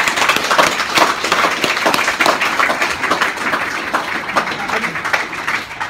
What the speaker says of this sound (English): Another round of applause for Anthony Riley.